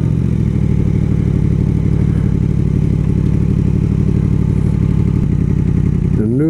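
A 2017 Yamaha MT-10 motorcycle engine runs steadily in neutral, a loud, close, throbbing idle with a dense mechanical rumble that holds constant throughout.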